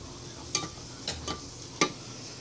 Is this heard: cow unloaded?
no